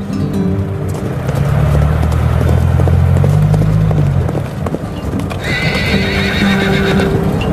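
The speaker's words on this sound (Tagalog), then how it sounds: "Dahil sa sobrang bilis nilang tumakbo, kakailanganin ng kabayo para siyang magtaboy papunta sa tinatawag nilang horse pen." Several horses on a farm gallop with rapid hoof clops while being herded toward a horse pen; one neighs loudly, then more whinnies ring out later, close and lively.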